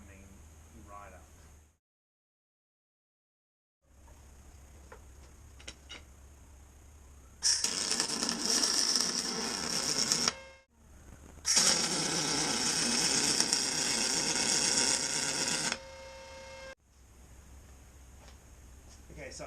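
Tack welding an aluminium battery box produces two sustained bursts of harsh hissing, crackling arc noise, each lasting several seconds, separated by short pauses against a quiet workshop background.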